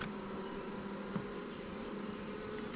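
Steady, faint insect drone of honeybees around an opened hive box during a yard inspection, a continuous hum with a brief knock near the end and no talking.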